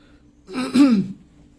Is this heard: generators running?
no